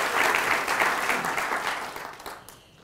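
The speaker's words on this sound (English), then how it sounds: "let's give him applause" A crowd applauds at a mayoral candidacy announcement event, steady and loud clapping that gradually fades toward the end.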